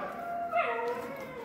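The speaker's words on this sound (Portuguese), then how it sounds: "É um cachorro chorando aí." A dog whimpering somewhere in an apartment building, a brief, thin, wavering whine at moderate distance over background noise.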